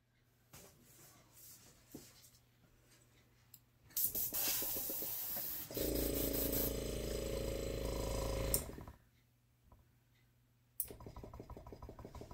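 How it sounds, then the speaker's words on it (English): Airbrush spraying thick pouring paint: a loud, steady hissing spray bursts in for several seconds, drops away, then returns briefly near the end, with quieter handling noise in the gaps. "And I'll use my airbrush for the rest of the way."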